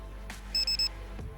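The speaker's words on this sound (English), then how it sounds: "Low voltage alarm." Low-voltage alarm on a JJRC H16 Tarantula X6 quadcopter battery: three short, shrill electronic beeps in quick succession, close and clear over a low background hum.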